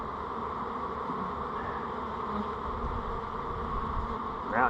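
Dense, steady buzzing of a honeybee swarm filling a double deep hive, a continuous close drone of many wings with no voices, swelling slightly at the very end.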